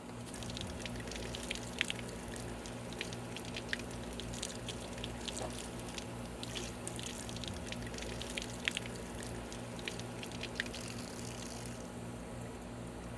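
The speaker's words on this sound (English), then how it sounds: "So let's hose it down." A garden hose rinses water over a freshly sanded table outdoors, giving a steady wash of spray and splatter with scattered drips and splashes. The sound holds at an even level throughout, with no talking.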